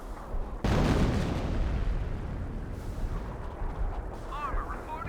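Close-range artillery barrage in the war strategy game Company of Heroes: a sudden loud blast opens into a dense, rumbling roll of explosions and gunfire that carries on steadily, with faint higher battlefield chatter near the end.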